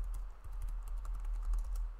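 A password being typed on a computer keyboard while protecting an Excel sheet, a quick stream of close, crisp key clicks with no voices.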